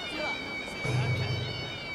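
A cat meows in Yakuza Kiwami, a short, clear in-game meow near the start, with a low murmuring voice and faint game sounds beneath it.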